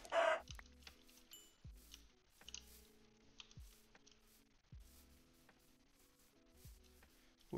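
Chickens cluck in a UHC video game, a few short clucks scattered over quiet game sounds and soft clicking.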